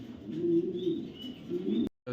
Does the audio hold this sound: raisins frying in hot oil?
no